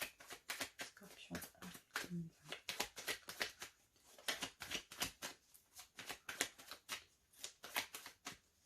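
Tarot cards are cut and shuffled close up, a rapid series of crisp riffling and slapping bursts continuing throughout, with a brief bit of talk early on.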